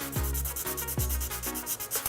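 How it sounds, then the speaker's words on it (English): Sanding paper rubbed back and forth over a cured resin surface, close and rhythmic strokes repeating about every half second, with no voices. "we're going to sand this down, these areas here."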